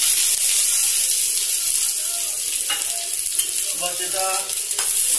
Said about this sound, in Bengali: আমাদের অয়েল মোটামুটি গরম হয়ে গেছে, তো আমরা পেঁয়াজটাকে দিয়ে দিচ্ছি।